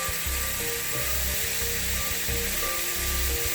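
Ackee and saltfish simmering in a pan give a steady, close sizzle with soft scraping and rubbing of the food, even and continuous throughout, with no talking.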